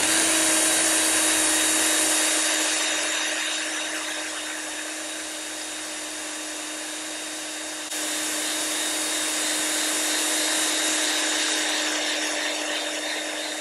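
A pinstripe removal wheel spins steadily against a car's painted panel, stripping old clear bra film with a continuous high whine and gritty hiss that dips briefly in the middle before resuming.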